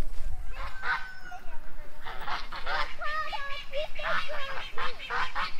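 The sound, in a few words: call duck honking like a goose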